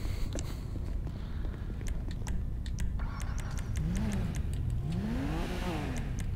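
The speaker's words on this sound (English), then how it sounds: "the RX-7 doesn't sound like a rotary" A Mazda RX-7 in GTA 5 revs its engine, rising and falling in two swells over a steady low car rumble, with sharp clicks scattered throughout.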